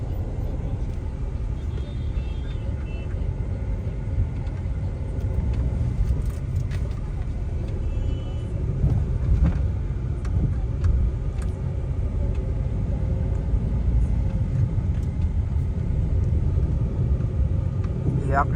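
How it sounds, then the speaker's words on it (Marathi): Steady road traffic at a busy bypass junction on the Akluj road, a continuous low rumble of passing cars and heavier vehicles with no clear break, fairly loud and close throughout. "आता तुम्हाला दिसत असलं गाड्या सारखं चालू असते तिकडे यायला जायला"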